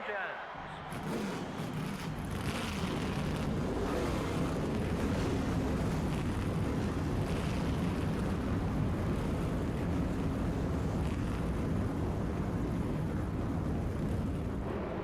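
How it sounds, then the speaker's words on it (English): Race car engines start and settle into a low, continuous rumble in the NASCAR Thunder 2000 video game, a thick broadband drone holding steady throughout with speech mixed over it. "Gentlemen, start your engines."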